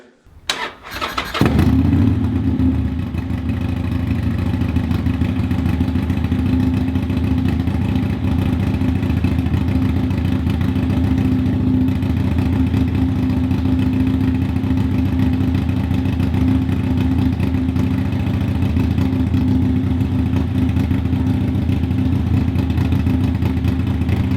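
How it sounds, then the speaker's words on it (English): A Harley-Davidson Sportster motorcycle is started after an oil and filter change, a short cranking burst before the engine catches and settles into a steady, loud, low idle that runs on unbroken for over twenty seconds. "it's now time to just fire this bike up and check oil's not gonna shoot everywhere"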